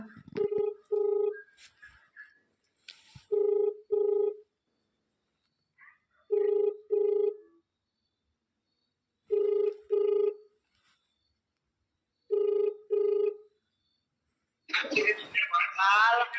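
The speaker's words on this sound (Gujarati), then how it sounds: "તો આપણે સીધો કરી દઈએ ધવલભાઈને ફોન" A telephone ringback tone from a Gujarati prank call repeats as paired rings with quiet gaps between them, clear and steady, before a voice answers at the end.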